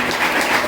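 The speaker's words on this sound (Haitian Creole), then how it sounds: "on nous applaudit." An audience at an evangelical Baptist church youth gathering claps in a brief, dense, steady burst of applause heard close and fairly loud.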